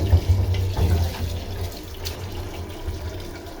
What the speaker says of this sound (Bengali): এই তো আমার মাংস তো ধোয়া হয়ে গেছে